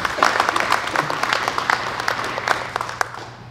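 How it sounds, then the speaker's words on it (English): A small audience at a Minnesota community event claps for a guest with home audio studio equipment, close, uneven hand claps that gradually thin out, with a faint low hum underneath. "Why don't we give them a round of applause"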